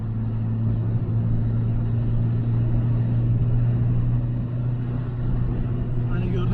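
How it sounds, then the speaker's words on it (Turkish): A first-generation Renault Laguna engine pulls at full throttle on an empty night road, heard from inside the cabin as a loud, steady low drone that holds for the whole stretch. "Şu an dip gaz gidiyorum."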